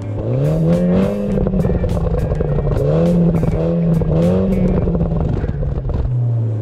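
A 2018 MINI John Cooper Works revs loudly and close by, its engine note rising and falling in repeated throttle blips, with sharp crackling exhaust pops scattered on lift-off between surges.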